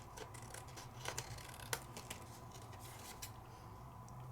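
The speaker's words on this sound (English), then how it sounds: "And then I take my scissors" Scissors trim paper during card crafting, giving small crisp snips and clicks scattered over a soft steady background, close and fairly quiet.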